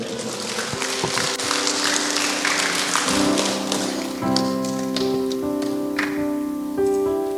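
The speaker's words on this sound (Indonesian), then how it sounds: "Tepuk tangan untuk mereka berdua." Wedding guests in Merauke, South Papua, clapping for the couple, a dense patter of applause under background music with sustained tones.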